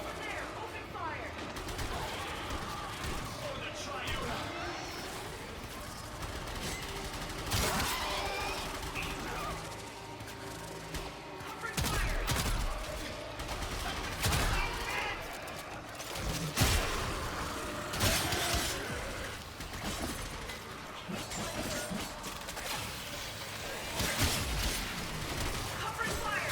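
Sustained gunfire rattles through a Warframe battle, with rapid bursts and heavier blasts piling up in a dense, continuous barrage while game characters shout over the fighting.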